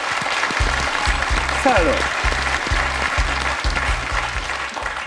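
Studio audience on the quiz show Questions pour un champion applauding a contestant, even rhythmic clapping in a regular beat with background music, a voice briefly exclaiming over it.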